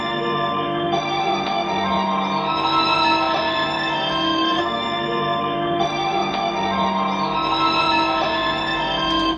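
A looped, chopped string pattern plays continuously with sustained bowed tones and short repeating sections, with no voices.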